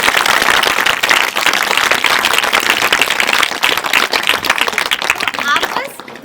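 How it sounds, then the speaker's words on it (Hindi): Loud, dense clapping from a group of schoolchildren at a village school gathering, sustained for about six seconds and then tapering off toward the end. "ताली बजाओ जरा जोर से।"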